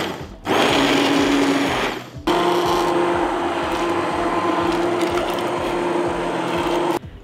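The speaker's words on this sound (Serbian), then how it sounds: "sada ću sa štapnim mikserom sve ovo ispasirati" A stick blender whirs loudly and close as it purées stewed tomato, onion and apple in a pot. It runs in two bursts with a short break between them, and its motor pitch stays steady under the rattle of the chopping blade.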